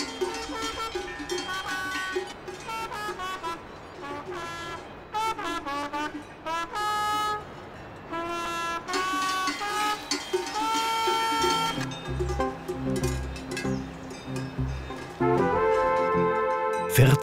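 Cowbells on fourteen cows and calves clang and jingle in irregular bursts during an alpine cattle drive down from a mountain pasture by the Obersee in the Berchtesgaden Alps, close and lively, followed by a heavier lower clanking toward the end.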